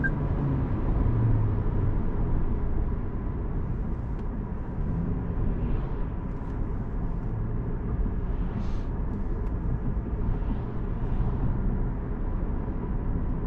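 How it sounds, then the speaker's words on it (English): A 2025 Toyota Camry SE driven in sport mode gives a steady, low engine and road rumble from inside the cabin, continuous and even throughout with no talking. "I'm driving a Toyota Camry."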